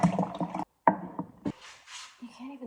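Tap water running into a water bottle during a night routine, heard briefly near the end with a rising fill tone, after a stretch of talk and clattering handling noises.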